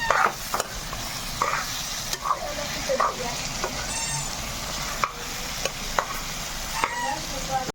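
Mutton pieces frying in a pan with crushed whole cumin, stirred with a spatula: continuous sizzling broken by irregular clanks and scrapes of the utensil, close and moderately loud.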